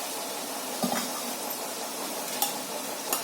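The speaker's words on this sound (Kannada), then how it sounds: "ಎಣ್ಣೆಯಲ್ಲಿ ಕುಟ್ಮೇಲೆ ಇದನ್ನೇ ಸ್ವಲ್ಪ ಹಾಲು ಹಾಕೊಳ್ಳೋಣ" Milk is poured into hot oil in a pan, setting off a steady, fairly loud hissing sizzle. Faint utensil clinks turn up now and then, and no one speaks.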